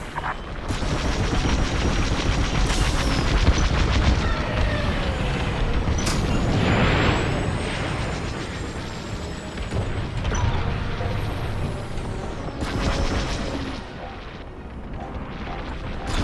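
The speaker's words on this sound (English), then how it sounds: "The Imperial fleet's firing at the convoy." Continuous heavy laser and cannon fire from an Imperial fleet striking a convoy in the Star Wars Squadrons space-combat game, with dense overlapping blasts, rumbling booms and bursts of sharp zaps sustained at close, loud range.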